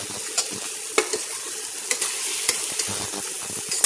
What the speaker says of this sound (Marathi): वांग्याला असे चट्टे पडतील तेवढ्या वेळ वांगे दूध न टाकता